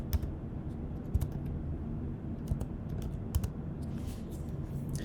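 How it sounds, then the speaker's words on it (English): An equation typed into Desmos on a computer keyboard: a steady, close patter of key clicks with a few heavier strikes, no voices. "so if I type in the left side of the equation into Desmos"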